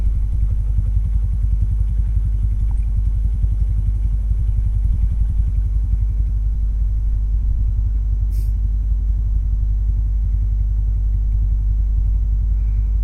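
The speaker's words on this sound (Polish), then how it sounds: "Silnik ładnie pracuje, bo ostatnio wymieniałem głowicę na setkę w gaźniku." A Junak motorcycle engine, recently fitted with a new cylinder head and a 100 jet in the carburettor, idles with a loud, steady low thumping rumble heard up close and continuously, with no talk over it.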